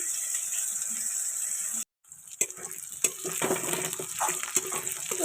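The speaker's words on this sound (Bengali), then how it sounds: "পেঁয়াজটা হালকা করে ভেজে নিয়েছি আর এবারে সাথে একটু ক্যাপসিকাম দিয়ে নিলাম" Onion and capsicum frying in a pan, a steady bright sizzle broken by a brief silence, then resuming with occasional stirring clatters and scrapes against the pan.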